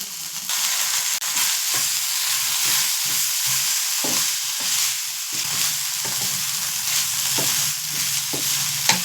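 A paste of ginger, cumin and black pepper fries in a pan with a dense, continuous sizzle, close and loud, broken by occasional scrapes and stirring taps, with no voices.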